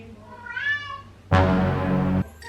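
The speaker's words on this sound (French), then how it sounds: "Est-ce que vous entendez comment elle miaule s'il vous plaît?" A female cat in heat gives one drawn-out, rising and falling meow, followed by a sudden loud, harsh, sustained yowl that cuts off abruptly, heard close up indoors with no talking.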